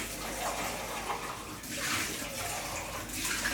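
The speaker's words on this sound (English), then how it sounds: "Just quickly rinsing the recycling, folks." Water runs steadily from a kitchen sink tap as recycling is rinsed, a soft continuous splashing at moderate distance.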